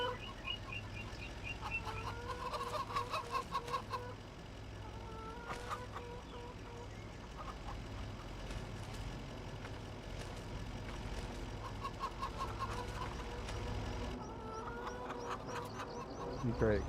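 Chickens cluck and murmur in the Farming Simulator 25 video game on a farm, with repeated short clucks scattered over a low steady engine-like hum, moderately near.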